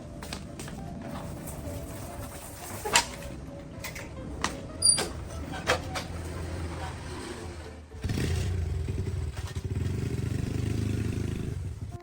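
A green motorbike starts off and pulls away, its low engine rumble rising steadily and continuing to the end after scattered clatter and household knocks.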